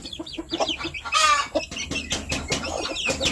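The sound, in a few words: Japanese Shamo chicken chicks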